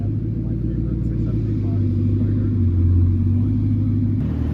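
A Bugatti Chiron Pure Sport drives off with a steady, deep engine rumble that stays loud and close throughout, while a voice speaks over it.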